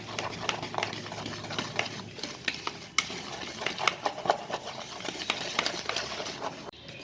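Spinach and potato bhajiya batter stirred in a bowl after baking soda and hot oil go in, a busy run of soft wet slaps and scraping taps at close range, steady and uneven, with no voices.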